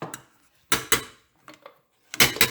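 A metal spoon scrapes and taps against a bowl to get the jam off, a few short, sharp clinks in separate bursts with quiet gaps between, close by.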